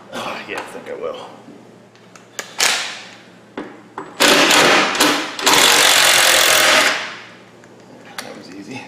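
Bursts of a power tool whirring in short runs, with one long sustained stretch, close by and loud, among clattering handling noises, while fitting rock sliders on a Jeep WJ.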